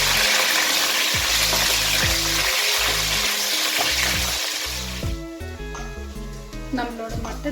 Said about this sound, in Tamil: நம்மளோட மட்டன் நல்லா ஃப்ரை ஆயிடுச்சு